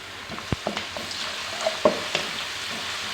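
Ginger garlic paste hits fried onions in a pan, a soft steady sizzle with a few sharp spatula taps and scrapes scattered through it.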